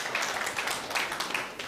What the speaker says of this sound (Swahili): Tumpigia makofi as he enters.